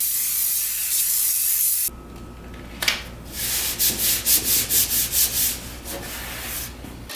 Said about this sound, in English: We're going to apply this template to this piece of plywood, like so, with some spray adhesive.